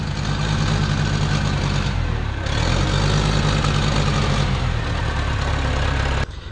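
A Case 580CK backhoe's diesel engine idles after maintenance, a loud, close, steady low rumble with a pulsing beat that shifts slightly in pitch and cuts off abruptly at the end.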